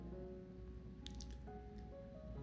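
Soft, wet squishing of fried-bread dough being rolled into balls by hand, a few quiet sticky squelches close by with no talk.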